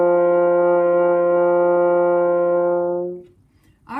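Played on a single F French horn, one long steady C rings out at even volume for just over three seconds, then tapers off, and a short vocal sound follows.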